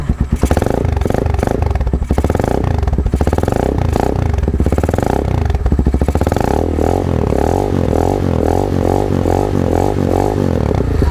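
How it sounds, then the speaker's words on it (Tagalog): Motorstar Z200S motorcycle with a stock pipe and stock elbow, idling with a steady low rumble, then revved repeatedly in rising and falling bursts, loud and close. "So pakinggan po muna natin ang tunog ng ating stock pipe gamit ang ating stock elbow"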